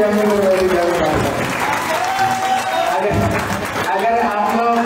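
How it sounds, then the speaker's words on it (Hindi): An audience at a Bhagwat katha religious discourse in Hapur, Uttar Pradesh, claps throughout, a dense, steady wash of applause that dips briefly and then swells, with a voice talking over it. "ताली बजाओ"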